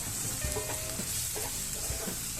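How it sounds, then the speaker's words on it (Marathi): Masala stirred into egg bhurji frying in a pan, a steady close sizzle under scattered scraping strokes of a spoon, with no talking. "सर्व मसाले घेतलेत ते सगळे मसाले टाकून घेऊ पुन्हा एकदा छान मिक्स करू"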